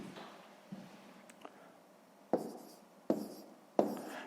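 Pen writing numbers on paper while setting up a column subtraction, heard as a few soft scratches followed by three sharper taps and strokes, close and fairly quiet with no talk.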